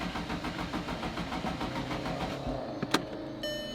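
An abandoned Audi R8's engine cranks in a rapid, pulsing rhythm and briefly catches, sputtering as it floods, then fades out with a short metallic clank near the end.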